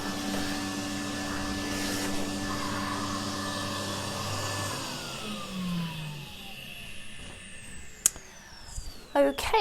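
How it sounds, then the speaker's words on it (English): A hoover vacuum cleaner runs steadily while clearing dust off furniture being prepared for chalk painting, then winds down with a falling whine, followed by a few sharp knocks near the end. "now we have cleared out all the dust with the hoover"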